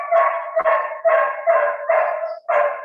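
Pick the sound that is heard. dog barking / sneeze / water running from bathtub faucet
dog barking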